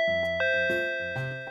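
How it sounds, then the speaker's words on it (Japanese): Two-tone intercom doorbell chime in an anime, ringing twice in quick succession with bright sustained tones that decay cleanly against an otherwise quiet room, close and clear. "ん？ インターホン？"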